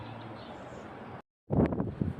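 Wind buffets the microphone with a low rumbling roar, cuts out briefly, then returns in stronger gusts.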